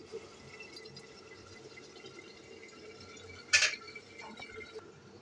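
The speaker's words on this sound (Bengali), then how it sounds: "তা আমরা আবার ঢাকনা দিয়ে দিচ্ছি" A lid set onto a cooking pot of chicken and potato, one brief metallic clink rising from a quiet, faintly bubbling background.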